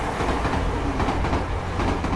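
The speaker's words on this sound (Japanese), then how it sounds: "やばい、電車が接近してる。" A train rolls into a station platform with a loud, steady rumble and rhythmic clickety-clack of wheels over rail joints, filling the whole stretch without pause.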